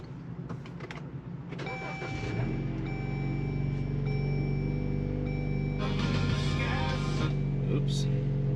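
A Jeep JL cranks briefly and catches, then settles into a loud, steady idle close by, with faint electronic chime tones running over the engine drone.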